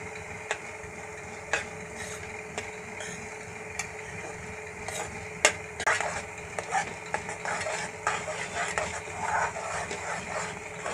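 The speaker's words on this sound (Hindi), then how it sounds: "इसको हमने लो फ्लेम पर ही भुनना है।" Mawa with cardamom roasts slowly in a pan over a low flame, a soft continuous sizzle under repeated scraping and clicking of a spoon stirring, growing busier toward the end, with no voices.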